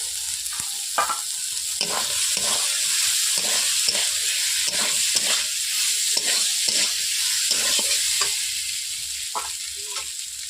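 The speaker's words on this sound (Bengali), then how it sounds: "এরপর আমি আলুগুলোকে দিয়ে দিচ্ছি মশলার মধ্যে" Potato pieces sizzling loudly in hot spice paste for a Bengali fish jhal, with repeated scraping strokes of a spatula across the pan in a steady rhythm, close and unbroken by any speech.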